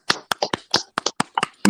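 About a dozen sharp hand claps in an uneven, quick rhythm, close and crisp with short silent gaps between them.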